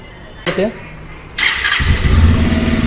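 A Bajaj Avenger 160 Street motorcycle engine cranks and catches with a short burst, then settles into a steady close idle that carries to the end.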